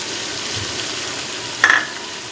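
Masala with red chili flakes, black pepper and yogurt sizzles in a pan for mutton white biryani, a continuous dense frying hiss with a brief scrape of stirring near the end, close and loud, with no talking.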